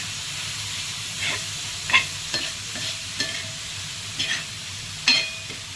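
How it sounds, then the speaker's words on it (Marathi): Dried small karandi shrimp being stirred in a frying pan, giving a soft continuous sizzle with several sharper scraping strokes of the spoon at irregular intervals, close and fairly quiet. "करंदी घातल्यानंतर थोडंसं आपल्याला मिक्स करून घ्यायचं आहे"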